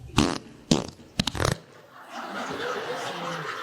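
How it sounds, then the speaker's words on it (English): Several short, blaring fart-like bursts close by, three or four spaced blasts in the first second and a half, followed by a quieter stretch of room noise and faint voices. "That might have actually been a fart I was feeling."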